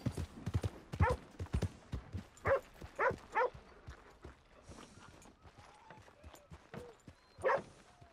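A horse's hooves clip-clop at a walking pace in the Western open-world game Red Dead Redemption 2, clear rhythmic thuds up close with quiet ambient game sound between the steps.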